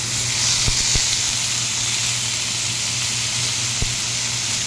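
Ginger garlic paste fries in a hot pan with a steady, even sizzle and hiss, loud and close, with a few faint clicks and no voices.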